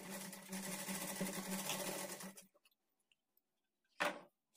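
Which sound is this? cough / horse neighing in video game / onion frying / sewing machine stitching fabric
sewing machine stitching fabric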